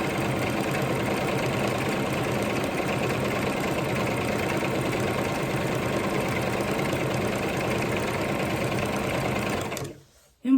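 A sewing machine stitches ribbon trim onto socks, running steadily and close at an even rapid pace for about ten seconds before stopping abruptly.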